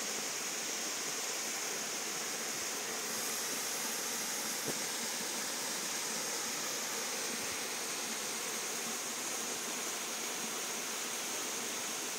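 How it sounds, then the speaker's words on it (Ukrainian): Sopit waterfall in autumn roars as a steady, dense rush of falling water, even and unbroken throughout, with no voices. "Водоспад"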